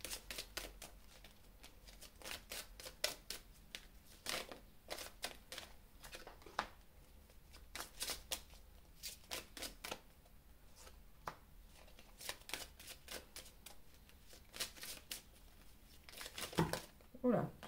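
Tarot or oracle cards being shuffled for a relationship reading, giving a long run of quick, close papery riffles and flutters in irregular bursts, with a clattering spill near the end as the cards drop.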